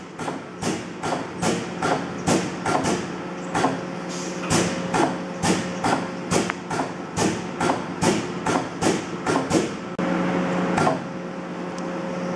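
A 1986 121-ton Aida DC gap press running in inch mode gives a long series of regular heavy thumps roughly twice a second, loud and close over a steady machine hum.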